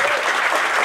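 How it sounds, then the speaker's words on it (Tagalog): An audience at a gathering applauds its first-time attendees with dense, continuous clapping that fills the short moment at an even, loud level. "Palakpakan natin mga first-timers."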